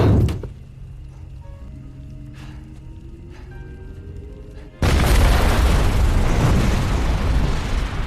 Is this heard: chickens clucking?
no